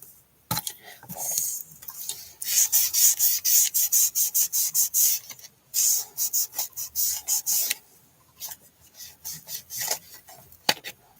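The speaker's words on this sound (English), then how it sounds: "And I need to trim up some little stickers here." Rapid series of crisp snipping or scraping strokes, close and fairly loud, as overhanging stickers on a folio are trimmed, in bursts separated by brief pauses.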